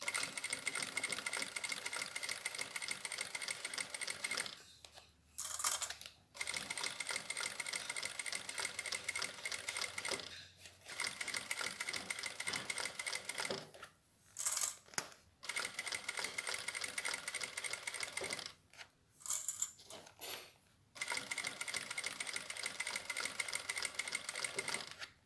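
Sewing machine running at its minimum speed, stitching fabric with a steady rapid mechanical chatter in several bursts separated by brief pauses, close and fairly quiet with no talking.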